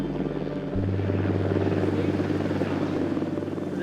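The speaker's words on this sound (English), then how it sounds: "This is the rescue helicopter." A rescue helicopter's loud thudding rotor and engine drone fill the scene steadily in the Scottish mountains, close by, with a deep hum throughout.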